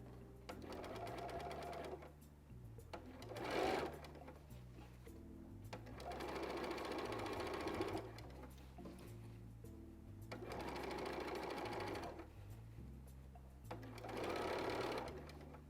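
A sewing machine stitches a sleeve in the round in several short runs of quick, rhythmic needle clatter separated by brief pauses, close but fairly quiet.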